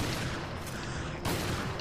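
Rapid gunfire from Resident Evil Revelations rattles in a dense, continuous burst with a sharper shot near the end, loud and close, without voices.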